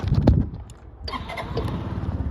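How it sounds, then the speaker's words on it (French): A Kymco X-Town 125cc scooter starts at the push of its button: a short burst of cranking, then a brief lull before the engine catches into a steady, moderately loud idle close by. "appuyer sur le bouton ici et ça va démarrer le scooter"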